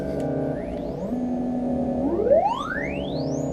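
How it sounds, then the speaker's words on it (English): A synthesizer pluck patch runs through a metallic echo delay, rising chirping sweeps repeating and overlapping as the echoes stack up, clear and alone with no talking. "Now it's going through the echo delay,"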